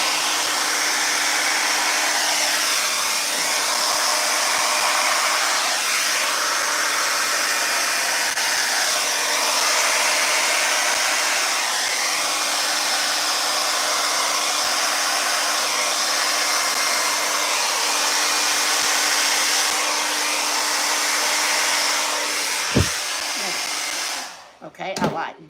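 Acrylic paint in a Dutch pour on a wood square is pushed across the surface by a hair dryer, a loud, continuous, steady blowing roar that runs alone for over twenty seconds before cutting off with a few clicks.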